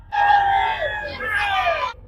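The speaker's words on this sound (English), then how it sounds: "the crowd is super excited, and it's not exactly quiet" A crowd cheers and screams with excitement along the parade route at the 24 Hours of Le Mans, with loud sustained shouts and whoops rising and falling over two seconds.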